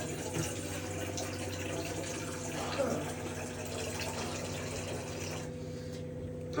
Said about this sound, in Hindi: सारी सब्जियां मैं धोऊंगी